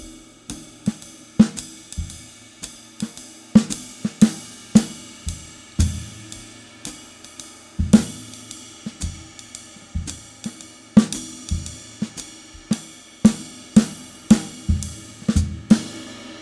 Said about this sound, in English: get some vocabulary started between the snare drum and your bass drum to get that authentic jazz comping style